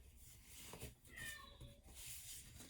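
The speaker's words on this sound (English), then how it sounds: "my cat is unpleased" A pet cat meows indoors, a few soft, drawn-out calls standing just above a steady background hiss.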